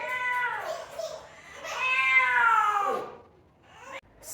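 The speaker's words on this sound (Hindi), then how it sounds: "बिल्ली भी आ गई है, पता नहीं ये इसको क्या चाहिए" A cat meows close by at home, with two short meows followed by a long, drawn-out, rising wail, then quiet.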